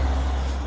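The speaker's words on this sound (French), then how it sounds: "il y a des voitures qui passent du coup." Road traffic passing on a street, a steady low rumble of vehicles, loud and close, with no talk.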